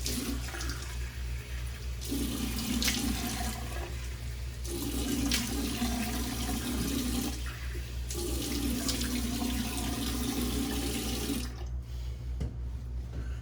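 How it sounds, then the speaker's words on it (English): Tap water runs steadily into a sink in bursts as a face is rinsed after a wet shave, with pauses between splashes and a low steady hum beneath. "let me wash off my face and we'll apply some aftershave"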